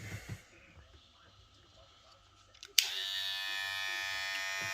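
A battery-powered hair clipper switches on partway through and runs with a steady high-pitched buzz after a few soft handling sounds and breaths.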